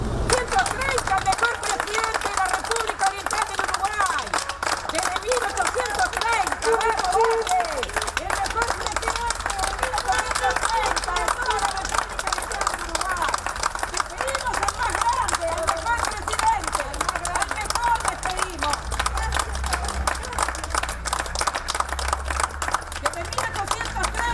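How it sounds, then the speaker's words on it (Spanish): Mourners outside a house gathered to pay tribute break into spontaneous, steady applause, a dense wash of clapping that runs without a break, mixed with crowd murmur and speech. "En varias oportunidades surgió un aplauso espontáneo por parte de quienes se acercaron hasta la casa para rendir homenaje"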